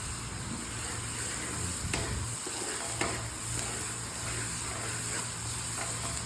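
Dried fish with tomato cooking in a pan gives a continuous, even sizzle with occasional soft clinks of stirring, heard alone with no talk.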